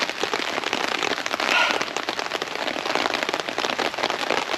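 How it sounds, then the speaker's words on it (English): Steady rain patters densely on a surface close by at a campsite during Storm Floris, a continuous crackling hiss with scattered sharper drops. "Still raining."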